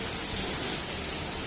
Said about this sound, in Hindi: और ये देखो बारिश कितनी तेज हो रही है